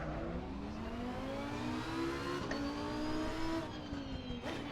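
A race car engine in the Assetto Corsa Competizione racing game revs loudly and continuously, its pitch climbing steadily through the gears with brief drops at each shift.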